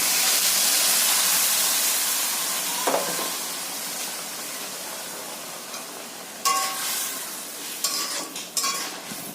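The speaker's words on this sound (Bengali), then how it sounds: "এবার সেদ্ধ করে রাখা ডালটা এতে দিয়ে দেবো।" Boiled moong dal goes into a sizzling pan of fish-head mixture, giving a steady hissing fry with a few clinks of a spoon or pan along the way.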